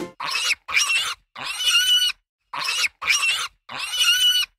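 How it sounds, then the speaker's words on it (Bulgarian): A farm pig squeals and grunts in six short, loud bursts with small gaps between them, alone and close. "Ето го и прасето. Прасето казва..."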